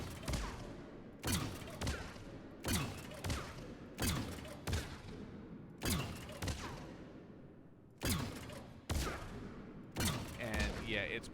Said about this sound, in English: its projectiles bounce a little wacky